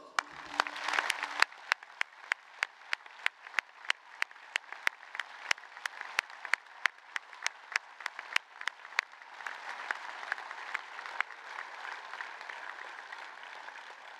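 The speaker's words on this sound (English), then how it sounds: "graduates and guests, please applaud." Steady applause from a large audience at a graduation ceremony, with sharp rhythmic claps standing out at first and then a broad wash of clapping that continues throughout.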